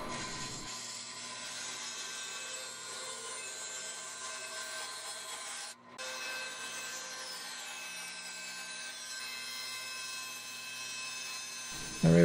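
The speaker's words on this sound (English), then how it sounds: "here using my miter saw and the fret slotting saw blade to cut all the fret slots" A miter saw fitted with a fret slotting blade cuts fret slots into a guitar fretboard, a steady high whine that grinds through wood, with a brief dip near the middle as one cut ends and the next begins.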